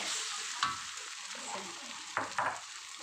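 Eggs with Thai fermented pork (nham) fry in a pan under a soft constant sizzle, broken by a few louder stirring scrapes and spatula taps near the start and toward the end.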